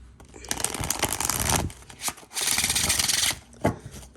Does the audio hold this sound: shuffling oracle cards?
yes